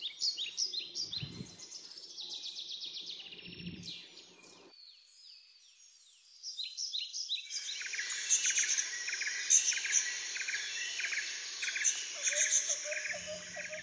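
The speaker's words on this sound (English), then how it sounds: "Owls can make different sounds." Recorded bird calls played from an augmented reality bird card app for an owl card: bursts of bright, repeated chirps and trills, a quiet gap, then a denser chorus of chirping with insect-like buzzing underneath.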